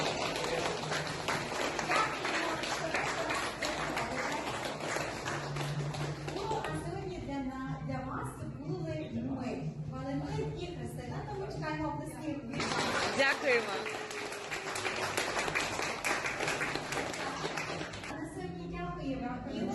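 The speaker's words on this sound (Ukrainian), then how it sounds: "Тому ми аплодуємо вам." Broad, dense clapping from an audience at a puppet theatre in Lviv fills most of the stretch, with a short pause in the middle where voices come through before the applause swells again.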